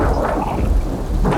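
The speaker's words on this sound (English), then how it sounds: "I was disturbed fitfully by crashes of thunder and lightning flashes along the" Thunder as a stage sound effect in a theatre production of Frankenstein, a loud rolling low rumble with rain-like hiss that swells again near the end, with no voices.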